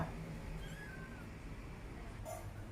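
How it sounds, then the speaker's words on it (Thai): A 22-day-old kitten cries for its mother, giving a faint, thin, drawn-out meow followed later by a shorter squeak against a quiet background. "นี่ร้องหาแม่ แมวแมวต้องใช้อยากจะกินนมแล้ว"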